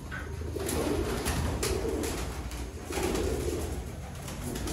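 Pigeons coo at a pigeon show in Sialkot, their soft, repeated throaty calls rolling over a constant background din, close and continuous.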